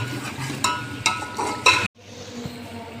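Yogurt is stirred into fried masala in a pan for aloo biryani, with scraping spoon strokes over a steady sizzle for about two seconds, then a sudden drop to a quieter simmer.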